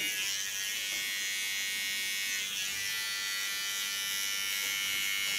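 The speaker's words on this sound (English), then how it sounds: "Clean the contour again with a small clipper" A small electric hair clipper hums steadily and close while trimming the neckline contour, a continuous buzzing drone without talk.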